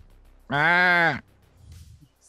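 A person imitates a goat's bleat with one loud, wavering nasal call lasting under a second, followed by quiet background noise and faint rustles.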